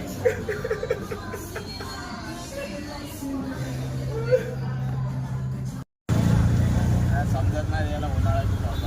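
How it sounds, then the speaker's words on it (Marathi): An auto-rickshaw ride through Marol Pipeline with a steady engine drone and road rumble, light chuckling and talk over it, and a brief dropout before the engine noise returns louder. "आता मी चालले रिक्षामधून घरी मरोल पाईपलाईनला"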